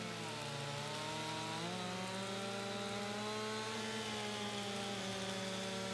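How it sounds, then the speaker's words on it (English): A chainsaw cuts into a tree in Farming Simulator 25, its engine droning loud and unbroken for several seconds, the pitch wavering slightly as it bites into the wood, with no talking over it. "Come on, little chainsaw, you can do it."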